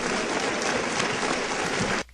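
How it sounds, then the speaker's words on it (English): A large audience claps steadily for about two seconds, with dense, loud applause that stops abruptly near the end. "they were clapping. They were clapping."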